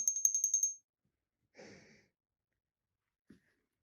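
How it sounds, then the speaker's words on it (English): A small porcelain bell shaped like a Christmas tree gives a quick, dainty run of high, bright rings, then falls silent, with two faint soft sounds later. "Hold it. You ring it. Very dainty little ring."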